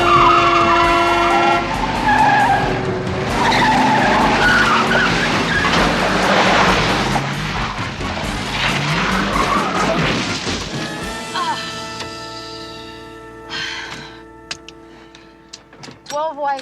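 A car skidding with squealing tires and loud smashing impacts in a crime drama chase, a long noisy rush of engine and scraping that settles into ringing debris and scattered clinks.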